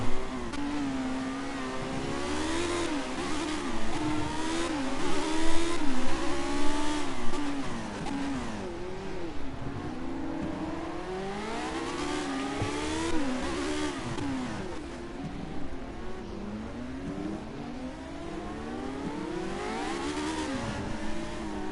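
Race cars passing by on the track one after another, engines rising and falling in pitch as they sweep past, loud and continuous with overlapping revving and shifting, no voices.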